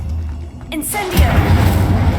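In the wizarding game Hogwarts Legacy, an Incendio fire spell bursts out with a sharp whoosh and then a loud, roaring boom that keeps rumbling; a voice speaks just before it.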